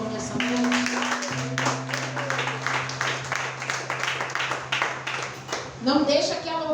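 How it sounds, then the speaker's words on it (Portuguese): A church congregation applauds during an evening worship service, a dense burst of clapping over sustained organ or keyboard chords, with a voice shouting briefly near the end. "Aplauda o Senhor nessa noite."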